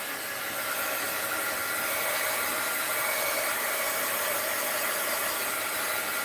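A hair dryer blows steadily on a painting of a Charlie Brown Christmas tree to dry the paint, a constant close whooshing hum running unbroken throughout.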